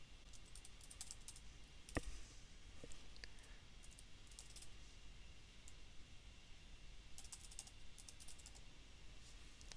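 Computer keyboard being typed on to enter an email address, with quick, light key clicks in short clusters and pauses over faint background hiss, plus one sharper click.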